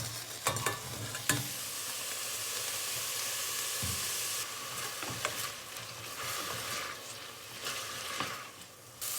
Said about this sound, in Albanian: Në një tenxhere tjetër, vaj ulliri, do hedhim kërpudhat.